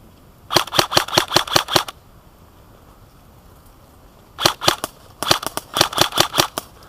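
Bursts of sharp, rapid airsoft gun shots, close and loud, firing in quick volleys during an outdoor airsoft game at Ponte della Priula, Italy, with a pause of quiet outdoor ambience between them.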